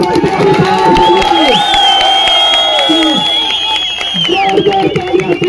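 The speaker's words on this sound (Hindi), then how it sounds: "जोरदार तालियां भाई के लिए" Crowd at a protest site cheering and whooping loudly throughout, with shouts and clapping mixed in and voices calling out over the din.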